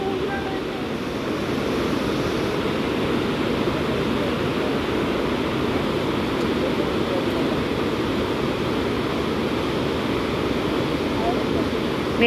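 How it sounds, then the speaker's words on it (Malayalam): A waterfall in a forest roars as a dense, steady rush of water, loud and continuous with no pauses, up close. "ഒരു അടിപൊളി വെള്ളച്ചാട്ടമാണ് കേട്ടോ"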